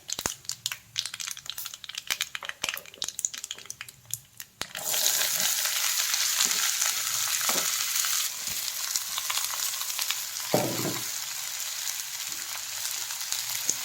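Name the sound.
mushroom and onion frying in a pan for theeyal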